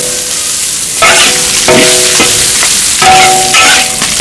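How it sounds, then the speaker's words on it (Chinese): Fatty cured pork sizzles loudly in a wok over a high gas flame, with a spatula scraping and clanking against the metal in several distinct strokes. "肥肉先下锅，先把这个油啊炒一下"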